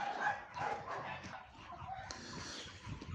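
A household dog and a neighbour's dog fighting, producing a continuous tangle of snarls, yaps and barks close by with no pauses.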